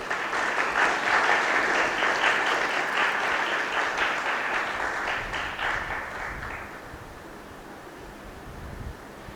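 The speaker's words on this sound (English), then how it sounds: "Let's all give a round of applause" Sustained audience applause fills a book launch hall, loud and dense at first, then thinning and fading over the last few seconds, with no speech over it.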